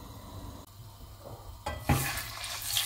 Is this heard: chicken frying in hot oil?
yes